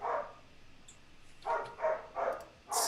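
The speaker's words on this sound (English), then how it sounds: "It sounds like your dog is pretty happy, man." A dog barks in four or five short bursts, spaced about a third of a second apart after an opening yelp, moderately close and alone with no talk.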